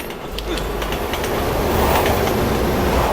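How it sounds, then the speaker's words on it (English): A train approaches in the video game Resident Evil 6, a steady loud rumble with clattering wheel noise that builds slightly as it nears. "There's a train coming."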